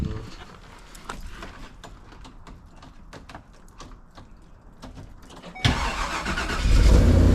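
A car engine, just repaired on-site after a no-start fault, cranks and fires up abruptly near the end. It settles into a loud, steady run after a quieter stretch of faint clicks and shop noise.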